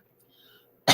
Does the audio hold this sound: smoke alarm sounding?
no